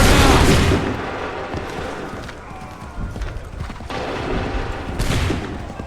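Musket volley gunfire in the Assassin's Creed 3 video game: a loud burst of massed shots opens, followed by scattered further reports and a second crackling volley near the end.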